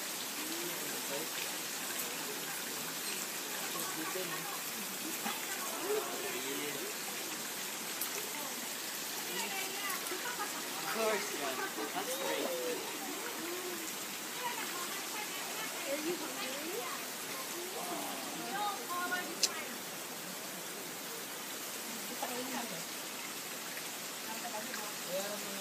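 Steady broadband rush of water tumbling over a cascade at a red rock hot spring site in the Philippines, continuous and fairly close, with faint voices underneath.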